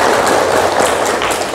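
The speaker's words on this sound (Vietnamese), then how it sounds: "Chúng ta dành một tràng pháo tay cho cô đi." An audience at a clinic discharge ceremony for cancer patients gives a patient a round of applause, a steady, full burst of many hands clapping at once with no pauses.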